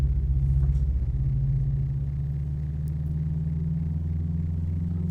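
A Toyota Hilux 2016 pickup in American Truck Simulator, its engine droning as a loud, steady low rumble under full throttle, the pitch holding nearly level and settling into a constant hum about halfway through.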